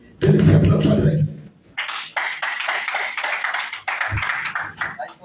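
Church congregation bursting into applause after a loud spoken voice, with dense, close clapping that keeps going for several seconds.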